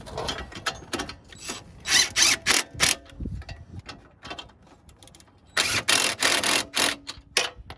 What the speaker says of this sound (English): What you want to do is just tighten the shock mount.